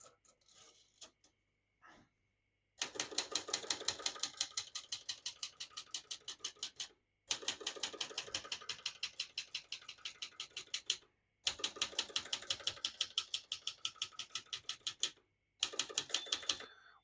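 Rapid, rhythmic clacking of a 1965 Brother Webster manual portable typewriter in several long bursts separated by brief pauses, close and crisp with no talking.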